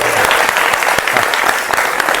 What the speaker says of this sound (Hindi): अरे एक बार जोर से ताली बजाइए।